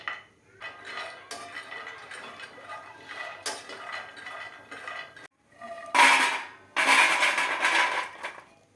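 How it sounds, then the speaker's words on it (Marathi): Intermittent scraping and rattling of almonds being stirred in a hot metal griddle pan, with a few louder bursts of clatter near the end. "तवा गरम झालेला आहे तर एक वाटी आपण आता हे बदाम हलकेसे गरम करूया"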